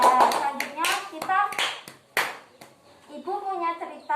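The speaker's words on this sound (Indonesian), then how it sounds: "Tepuk tangan dulu." Children in a classroom clapping hands together in quick bursts, close and lively, mixed with kids' voices and a teacher talking between the rounds.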